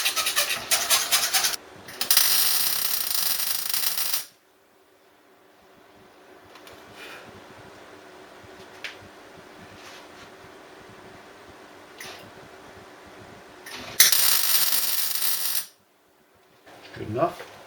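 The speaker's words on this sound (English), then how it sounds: "Just using the old carpet knife. Best way to get paint off metal rods" Carpet knife scraping paint off metal rods, with two loud bursts of rough rasping scrapes separated by a long quiet stretch holding faint clicks and taps.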